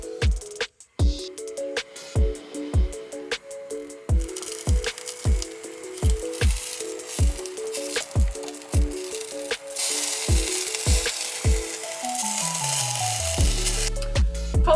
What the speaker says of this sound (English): And then we're going to lightly fry them